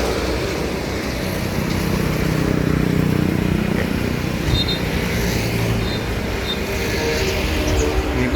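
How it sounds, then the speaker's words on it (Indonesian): Steady low engine rumble of a Jetbus 5 tour bus, heard from inside the coach, a constant droning idle with faint mechanical whine above it and no talking. "Ini bus pariwisata ya."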